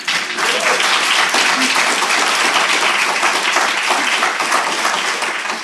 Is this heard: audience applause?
yes